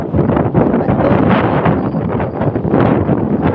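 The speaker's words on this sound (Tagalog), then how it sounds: "Lakas ng hangin." Strong wind buffets the microphone in loud, rough gusts during a fishing trip, roaring continuously; a voice says a single short word.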